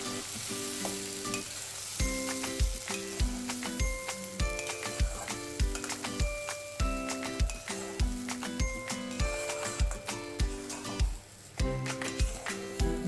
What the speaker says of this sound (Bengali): এখন একটি কড়াইয়ে সর্ষের তেল গরম করে এর মধ্যে দিয়ে দেব পেস্ট করা কড়াইশুঁটি।